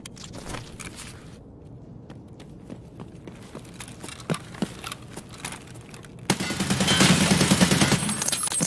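Scattered single shots and short bursts of gunfire ring out in an Escape From Tarkov raid on the Factory map, close and sharp, ending in a louder sustained volley.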